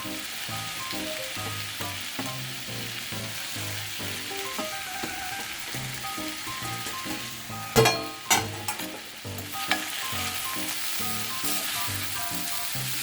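Basmati rice is stirred and fried in a pan for soya paneer pulao, giving a steady close sizzle throughout, with a few sharper scraping stirs near the middle.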